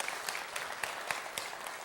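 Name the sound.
audience applause at NEAF talk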